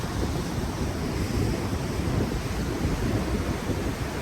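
Ocean waves and surf on the Oregon coast as the tide comes in make a loud, unbroken wash of rushing water, with wind buffeting the microphone throughout.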